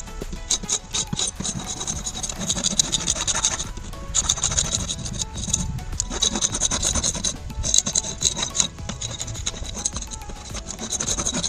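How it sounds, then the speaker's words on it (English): A paint scraper rasps old paint off the wooden exterior of a house in rapid, uneven strokes, close and fairly loud, with short pauses between bursts of scraping. "I started taking the paint scraper and getting the top rows of that paint off"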